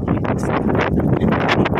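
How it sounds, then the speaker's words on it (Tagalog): Strong wind gusts outdoors at a mountain-view leisure farm in Nasugbu, Batangas, blowing loud and close into the microphone as a rough, buffeting roar that surges and dips over a couple of seconds. "Mahangin talaga dito."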